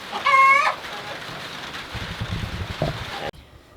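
Chickens in a coop give a loud, close rooster-like call and clucks at the start, then fainter clucking and pattering over a steady rain-like hiss, cut off abruptly near the end.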